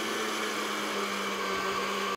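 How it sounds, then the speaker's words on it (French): Electric blender whirring steadily as it mixes kimchi sauce ingredients, a continuous loud motor drone with no talk, cutting off abruptly at the end. "On va prendre un mixeur et on va mettre tous les ingrédients."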